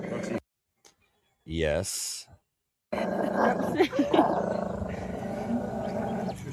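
A dog growls and snarls in bursts in a domestic setting, loud and close, broken by brief silences, with a voice saying a word at one point.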